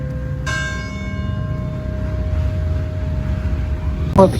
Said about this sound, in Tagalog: Kaya nagkakaroon po ng pagtunog ng kampana dito sa Baraswain Church.